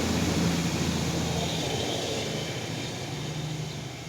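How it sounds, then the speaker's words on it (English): A loud truck rolls past outside, a steady broad roar and rumble that holds for several seconds and eases slightly toward the end, with no one speaking. "That's a loud ass truck."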